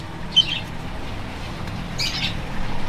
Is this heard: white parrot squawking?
yes